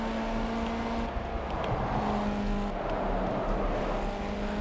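A three-wheeled hearse's engine hums in the Gas Guzzler Extreme video game, a continuous rumbling drone with slight shifts in revs and a faint passing swell.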